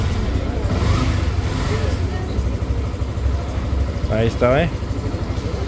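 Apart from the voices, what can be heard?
motorcycle engine starting and idling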